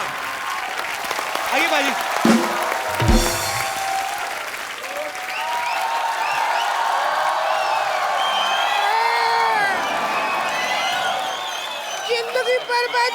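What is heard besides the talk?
studio audience applause and cheering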